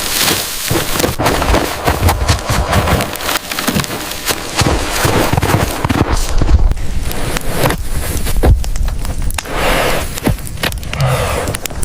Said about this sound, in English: gonna go through and knock all the limbs off the poles